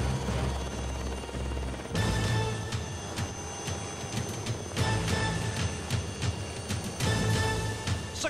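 A helicopter taking off near the Bloukrans Bridge in South Africa, a loud continuous rotor whir and thudding chop with the level rising and dipping in waves.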